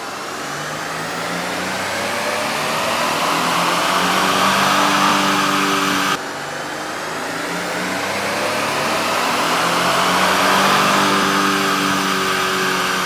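A Toyota Tundra truck running a JB4 tune (Map 2, 91 octane, drop-in air filters) roars loudly on a dyno, its engine note climbing steadily through a full-throttle pull twice, with no voices.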